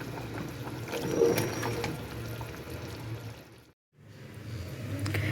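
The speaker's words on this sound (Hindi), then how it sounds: "इधर पानी बॉईल हो रहा है फ़िलहाल" Water boils in a pot in a home kitchen, a steady soft bubbling and hissing at moderate distance, broken by a brief silent gap.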